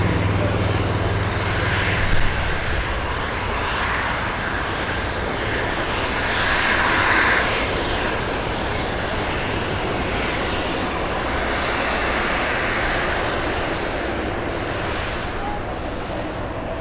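A Qatar Airways airliner flies past at Los Angeles International Airport, a strong, steady engine roar at mid distance that swells gently and holds for the full stretch, alone without speech.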